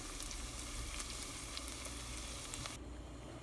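Ginger garlic paste and tomato puree frying in a pan for creamy cheese pasta make a steady, soft close sizzle with light crackles that cuts off sharply near the end.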